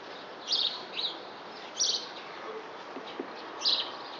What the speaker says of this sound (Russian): Только слышу воробьев сейчас.